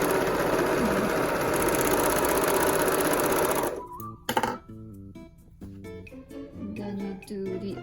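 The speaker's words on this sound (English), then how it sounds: "and then run the serger on it" A serger sewing machine stitches fabric for a face covering, its fast even whirr running steadily for several seconds and then cutting off, followed by faint handling noises.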